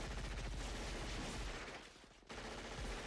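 Dense, sustained gunfire from a fight scene in a Predator film, a rapid barrage of shots that briefly drops away before resuming loudly, with no talk over it.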